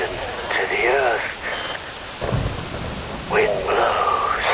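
Steady rain with rolling low rumbles of thunder in Metal Gear Rising: Revengeance, heard under processed, radio-like voice fragments that rise and fall across the stretch.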